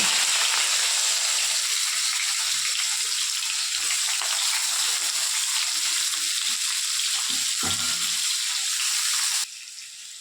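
Onions and spices fry in hot oil in a home kitchen, giving a steady, close, even sizzle that runs throughout and drops lower near the end, with no talking.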